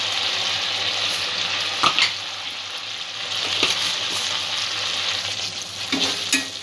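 Pointed gourd, potato and rice ingredients sautéed in a pan, with a continuous close sizzle of frying and several spatula scrapes and stirs standing out above it.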